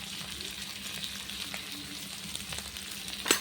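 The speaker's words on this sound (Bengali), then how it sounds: "আলুগুলো একটু ভেজে নেব।" Potatoes and onions fry together in a pan with a steady, soft sizzle and crackle, close by and without talk, with a brief stir or clink near the end.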